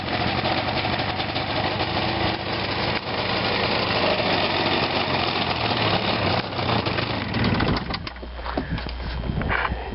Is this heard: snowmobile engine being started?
yes